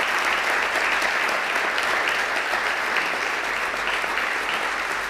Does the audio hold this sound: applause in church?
yes